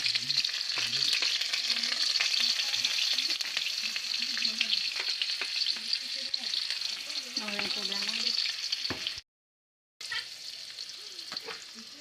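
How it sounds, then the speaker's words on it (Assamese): Pork frying and being stirred in a kadai, with a steady bright sizzle and intermittent scraping of a utensil close up, then a short gap of silence before the frying resumes. "এয়া গাহৰি মাংসখিনি এতিয়া ঢালি দিয়া হ'ল কেৰাহীত, ভালকৈ ভাজি লওঁ।"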